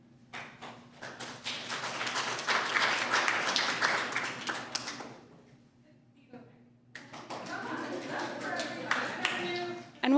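Dense applause from a school board meeting audience swells for several seconds, fades briefly, then picks up again with scattered claps and some voices mixed in.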